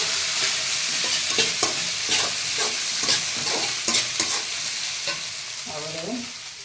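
Mustard seeds and cumin sizzle steadily in hot oil for egg rice, with a dense crackling hiss throughout, close and loud, broken by sharp pops and the scrape of a stirring spoon.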